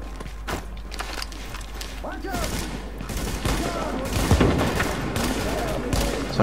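Rapid gunfire bursts and scattered single shots crackle through a firefight in The Division, mixed with footsteps and game noise while someone talks over the action.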